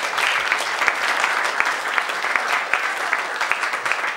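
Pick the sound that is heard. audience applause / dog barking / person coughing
audience applause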